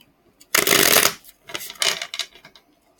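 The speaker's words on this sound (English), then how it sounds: "let me just shuffle these cards quickly as well" A deck of tarot cards gets two quick riffle shuffles, one long crisp burst followed by a shorter, choppier one, close and clear with no talking.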